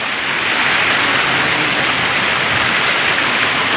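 Dense, heavy rain pours down in an even, loud hiss, unbroken from start to finish with no voices.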